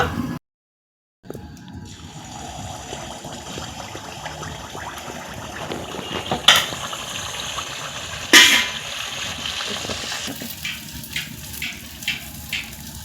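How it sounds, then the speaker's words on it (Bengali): Poa pitha rice cakes fry in hot oil with a continuous sizzle and bubbling, interrupted by a short silent gap near the start. A few sharper splashes and clatters come over the steady hiss. "আর বাকি পিঠেগুলো আমি এইভাবে ভেজে নিব।"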